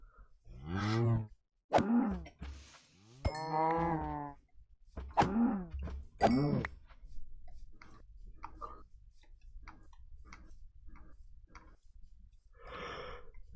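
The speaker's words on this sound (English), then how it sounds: "I do hate it that moo they do sometimes really does sound like it's screaming no" Cows in Minecraft let out several low, drawn-out moos with strong harmonic tones, spaced apart over the first half, followed by quieter game noises and a faint later call.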